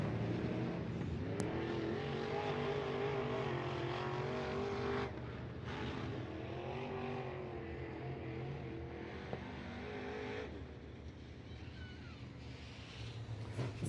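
IMCA Modified race cars roar around Southern Oregon Speedway, a continuous distant engine drone with rising and falling revs as cars pass, heard from afar with no talk.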